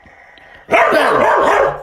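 A dog barks loudly on command, one sharp close bark that breaks into a sustained yelping, whining bark after a quiet lead-in.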